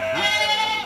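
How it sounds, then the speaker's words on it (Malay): A single goat on a farm among oil palm trees lets out one clear, close, wavering bleat that rises and trails off, with no talking. "Kambing ni lagi manja daripada lembu."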